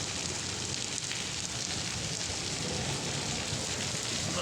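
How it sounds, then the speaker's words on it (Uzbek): Rain falls steadily in a rural Uzbek setting, a soft, even hiss of drops on surfaces at low volume with no voices. "Yomg'irlar suv yerga, ekinlarimizga suv."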